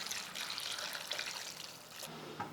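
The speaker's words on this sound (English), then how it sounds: "So I'll just use this water to fill this pot with." Leftover hot water from boiling dog bones is poured into a pot to fill it, a close, steady splashing stream that tapers off and then ends with a brief clink.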